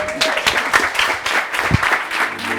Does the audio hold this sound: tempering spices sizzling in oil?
no